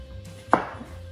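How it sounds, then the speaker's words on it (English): A single knife chop through an onion on a cutting board, one sharp close thud in otherwise quiet surroundings. "we're gonna do the easy chop onion"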